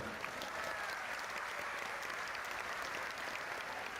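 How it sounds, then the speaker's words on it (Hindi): A large audience claps steadily and densely throughout, applause at a religious divine court gathering, even and sustained with no talk on top. "एक बार बागेश्वर धाम सेवा समिति महाराष्ट्र को ताली बजा करके धन्यवाद दो।"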